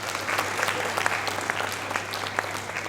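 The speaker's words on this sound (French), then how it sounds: "Je vous demande de les applaudir bien fort pour cela" Audience applause at the Miss Earth Mauritius Reunion 2019 pageant: dense, sustained clapping from a crowd, steady and fairly close, with no talking over it.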